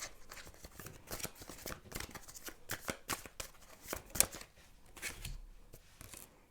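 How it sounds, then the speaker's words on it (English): Tarot cards being shuffled by hand, a steady run of crisp riffling and slapping bursts, close and fairly quiet, with no talking. "I'm gonna shuffle some more cards about what people find attractive about you, personality-wise."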